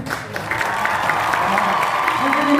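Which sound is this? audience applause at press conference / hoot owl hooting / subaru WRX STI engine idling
audience applause at press conference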